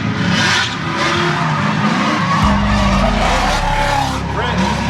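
Drift car sliding at a $5000 drift competition held at a mansion, loud skidding and tire squeal with revving engine sustained throughout, a commentator talking over it.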